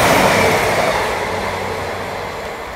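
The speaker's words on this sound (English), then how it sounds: "Next up on the fast line is a slightly more boring class 150" A Class 150 diesel train passes on the fast line at Levenshulme with a loud, close rumble and rush of wheels that slowly fades as it moves away, with no voices.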